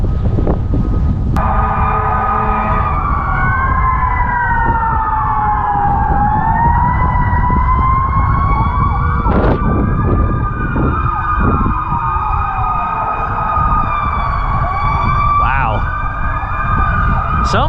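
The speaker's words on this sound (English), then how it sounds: "there's sirens all over the place" Loud emergency sirens wail continuously near the Raritan River, several overlapping tones rising and falling together over a steady rumble of traffic.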